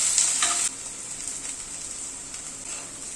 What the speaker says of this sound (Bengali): আদা বাটাটা দিয়ে আবার একটুখানি কষিয়ে নিচ্ছি মশলাটা।